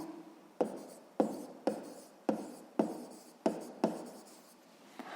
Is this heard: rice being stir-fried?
no